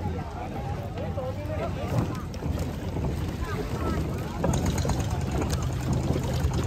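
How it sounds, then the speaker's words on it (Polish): A boat moving on the sea off Koh Lipe, Thailand, with a steady rumble and water rushing past, wind buffeting the microphone, and indistinct voices under the noise. "A teraz siadamy właśnie na łódkę i ruszamy w trasę."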